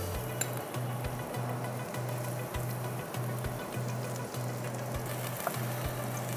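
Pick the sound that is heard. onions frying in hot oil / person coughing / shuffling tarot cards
onions frying in hot oil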